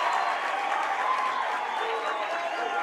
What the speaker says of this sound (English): As this large crowd comes, I say to their feet, but start to make some noise.